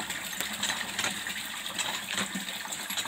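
Water gushes steadily from a hand pump in a rural countryside yard, a continuous broad splashing rush that stays fairly loud throughout with no voices.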